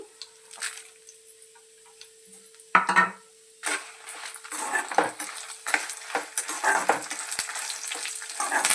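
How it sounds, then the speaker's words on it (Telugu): Dried red chillies fry in hot oil, giving a close sizzle that swells after a quiet start, with intermittent stirring clinks of a utensil against the pan. "ఆయిల్లో ఎండుమిరపకాయలు వేసుకొని బాగా ఫ్రై చేయాలి."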